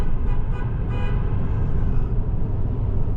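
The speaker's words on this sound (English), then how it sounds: "Should I honk?" Car horn honking on a drive through rural Washington, a few short toots near the start over steady loud road and engine noise.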